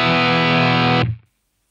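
Electric guitar through a Helix Deranged Master fuzz/boost with an input gate set near 150 ms: a thick, heavily distorted sustained chord rings loudly for about a second, then cuts off sharply into silence with no hiss, alone without talk.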